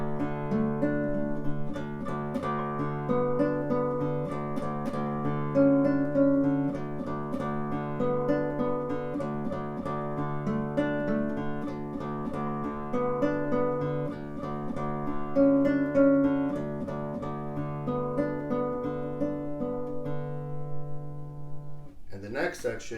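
A classical guitar plays an arrangement of a song, with sustained low bass notes under a steady melodic line. It is continuous and fairly close, heard alone, and a brief louder transient comes at the very end.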